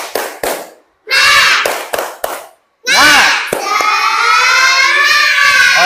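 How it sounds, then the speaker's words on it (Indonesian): Children clap together in a loud patterned rhythm in a classroom, bursts of claps broken by short pauses and shouted chants, ending in sustained group cheering. "Tepuk semangat."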